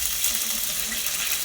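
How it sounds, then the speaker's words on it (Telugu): Mustard seeds and curry leaves splutter in hot oil, a steady hissing sizzle with faint scattered pops, close and moderately loud throughout. "ఆవాలు చిట్టపట్టుకుంటున్నాయి."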